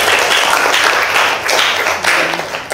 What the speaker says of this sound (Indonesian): Tepuk tangan buat Elki dong.